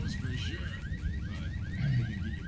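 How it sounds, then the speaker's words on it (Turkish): A car alarm wails in Left 4 Dead 2, its repeating rising whoops cycling steadily at close range over a dense rumble of game noise, with no talk over it. "Oo, alarm çalıştı abi."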